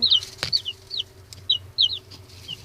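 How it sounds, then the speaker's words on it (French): Young chicks let out high, thin peeps in short repeated bursts outdoors near rabbits, close by and fairly faint, with a single soft knock among them. "Donc là, j'ai sorti les petits poussins."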